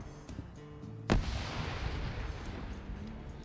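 A sharp, loud grenade blast from a video game firefight cracks once, then leaves a long rumbling tail of further explosive detonations and distant battle noise.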